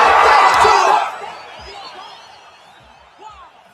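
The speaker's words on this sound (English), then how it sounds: "Yeah, man, crowd loving it." A video game crowd at a UFC 5 middleweight championship fight roars loudly in a burst of cheering, then fades to a lower murmur with scattered whoops and chatter over the following seconds.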